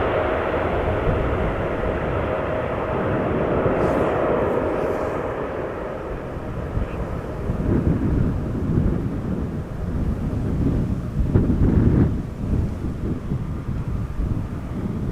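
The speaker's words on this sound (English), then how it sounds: "Already airborne and already rotating before hitting the boxes." A lightly loaded KLM Embraer E190 jet takes off steeply at Amsterdam Schiphol, a loud, continuous broadband roar that surges slightly while climbing, with no voices.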